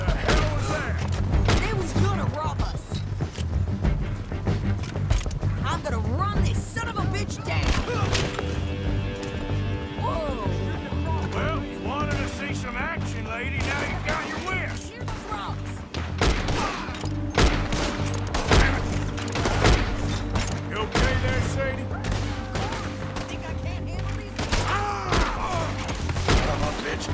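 Gunfire in Red Dead Redemption 2 cracks out as a run of sharp, loud shots scattered through a busy scene with horse hooves clopping, game music and voices talking throughout.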